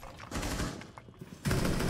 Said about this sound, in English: I'm tearing shit up with the DMR.